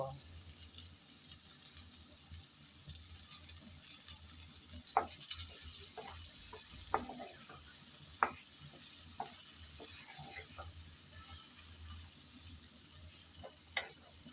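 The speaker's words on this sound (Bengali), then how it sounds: "এখন কিছুক্ষণের জন্য আবারও চুলায় রেখে ভালোভাবে কষিয়ে নেব" Cauliflower stir-fried with spices in oil while a small seafood fish dish is cooked, a steady soft sizzle with scattered clicks and scrapes of a spatula against the pan at a moderate distance, with no talking.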